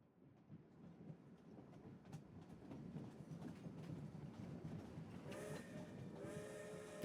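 A train passes in Genshin Impact, a steady rumbling roll that builds through the clip and turns brighter and busier near the end, with no voices over it.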